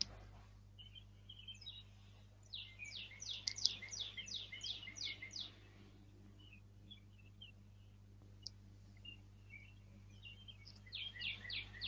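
Birds chirp and trill outside a window in quick bursts of repeated tweets, loudest in the first half and returning near the end, over a steady low hum in an otherwise quiet room.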